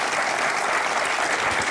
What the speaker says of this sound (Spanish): Un abrazo y una bienvenida con este aplauso para ti también.